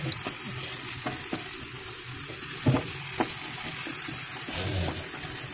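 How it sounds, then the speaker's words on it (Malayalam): Tomatoes with curry leaves sauté in a pan for prawn curry, a steady close sizzle broken by occasional stirring scrapes and light taps. "ടൊമാറ്റോ വെന്ത് കിട്ടുന്നത് വരെ വഴറ്റുക"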